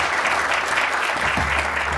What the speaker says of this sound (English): So give him a massive round of applause, Paul Brislin.